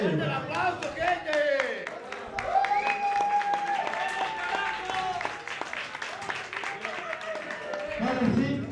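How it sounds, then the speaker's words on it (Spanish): An audience at a freestyle rap battle claps and applauds in a steady wash while a host speaks loudly over it into a microphone. "Otro aplauso para el joven problema, señores. ¡Fuerte el aplauso, gente!"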